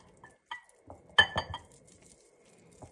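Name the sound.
stirring butter into cocoa in a bowl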